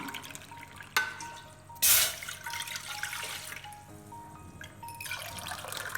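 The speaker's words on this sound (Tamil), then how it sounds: "இதில் வந்து 2 கப்பு தண்ணி ஊற்றிக்கலாம்." About two cups of water splash and trickle into a pot, with a sharp gush near the start, then a steady running pour that fades toward the end.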